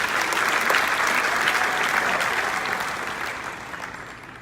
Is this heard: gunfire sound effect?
no